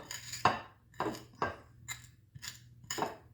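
A spoon mashes hard-boiled deviled egg yolks in a bowl, giving six sharp, close tapping and scraping strikes at roughly half-second intervals over a faint hum.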